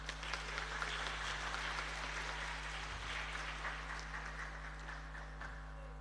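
A crowd at a Nahdlatul Ulama centenary gathering in Keerom, Papua applauds steadily, a dense patter of clapping heard at a distance over a constant low electrical hum.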